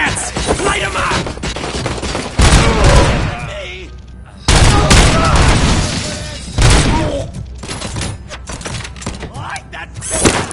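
Enemies firing guns in the video game RoboCop: Rogue City: loud sustained bursts of automatic fire with heavy booms, coming in waves, while voices shout over the shooting.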